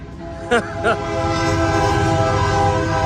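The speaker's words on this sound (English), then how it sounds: "the train has to come at the exact moment I'm outside" A train rumbles past City Hall with a steady, loud roar of rolling wagons, broken early by two short horn blasts, and a person speaks briefly near the start.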